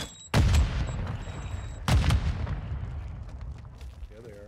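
A sticky grenade thrown and exploding in a video game match: two loud, close booms about a second and a half apart, each followed by a rumbling tail over continuous gunfire-like battle noise.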